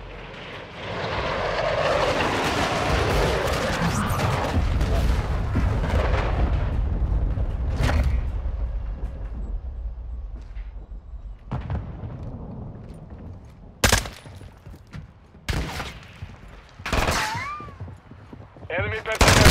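Gunfire from the video game Call of Duty Modern Warfare II: sharp, scattered shots and bursts crack out after a long stretch of loud rumbling aircraft and battle noise.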